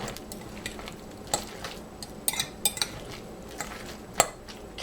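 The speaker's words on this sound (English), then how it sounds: "we're going to stir this together, the 2 eggs and the 2 cups of cheese" A utensil stirs two eggs and two cups of cheese together in a bowl, giving soft mixing sounds punctuated by several sharp clinks against the bowl, close and quiet.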